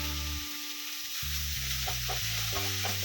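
Ivy gourd and green chillies frying and being stirred in a pan give a constant, soft sizzling hiss, partly buried under loud background music with a steady beat.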